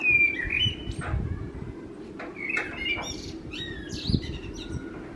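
A bird gives a run of odd chirps, squawks and whistles over a steady low rumble, loud and close, with no talk.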